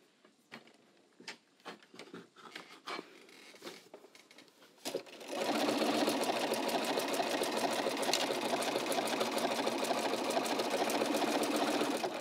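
A domestic sewing machine works a blanket stitch around fusible applique, starting with a few scattered clicks and handling noises, then settling into a loud, continuous fast mechanical whir for the remaining half.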